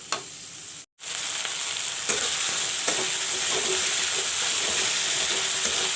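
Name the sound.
masala spices frying in oil with turmeric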